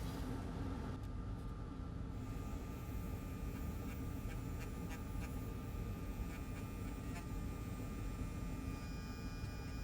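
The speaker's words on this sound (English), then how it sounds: "And let the grinding begin." Grinding tool working on an LG UltraFine 5K monitor during a Thunderbolt repair, giving a continuous, dense, loud whirring hiss that runs unbroken for the whole stretch.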